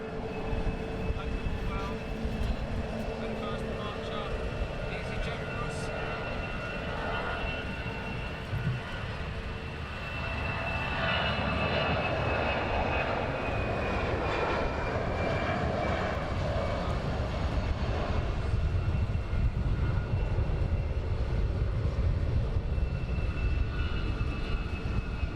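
EasyJet jet airliner departing Luton Airport, a steady roaring engine rumble with a whining tone that swells and builds over about 25 seconds, heard from a distance outdoors.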